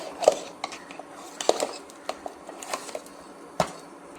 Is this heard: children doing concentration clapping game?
no